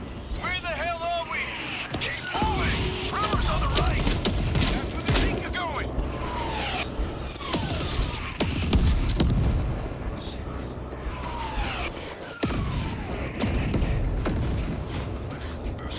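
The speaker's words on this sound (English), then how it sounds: "They're bombing the street!" Bombing and gunfire rage through a street in the World War Z video game, with dense booms, rumbling blasts and chaotic bursts filling the scene continuously, while voices shout over the din.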